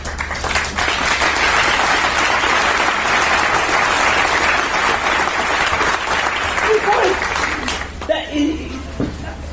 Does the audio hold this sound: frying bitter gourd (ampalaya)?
no